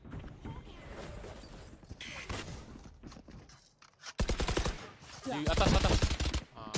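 Loud bursts of automatic gunfire in a shooting video game, arriving in two sharp volleys near the end after quieter game sounds, with brief speech over them.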